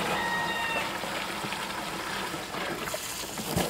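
A garden hose rinses out a compost bin outdoors, a steady close splashing and trickling of water with a few faint knocks toward the end.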